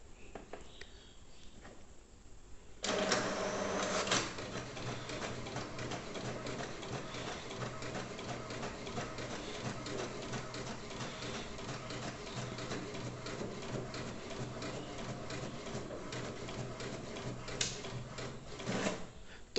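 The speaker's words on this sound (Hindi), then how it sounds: "सिमिलरली रीसेट करते हैं और एक ब्लैक प्रिंट भी हम देते हैं।" An HP Deskjet inkjet printer prints a black page with a faint, steady mechanical whir and shuffle. A louder feed clunk comes near the start, then the carriage hums continuously throughout.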